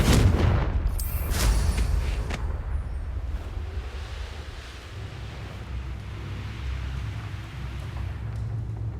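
The Confringo explosive spell cast in the video game Hogwarts Legacy, heard as a loud booming blast at the start that fades into a long, rumbling, crackling tail, with no talking.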